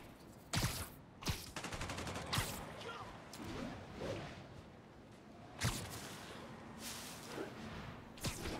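Police vehicle coming under gunfire in the Spider-Man PS5 video game: sharp shots burst out at irregular intervals, a few loud cracks spread across the stretch over a low ambient game background.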